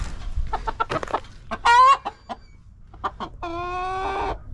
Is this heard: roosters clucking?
yes